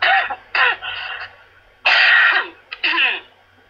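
A person coughs in several harsh, throaty bursts, two pairs separated by a pause, close to the microphone.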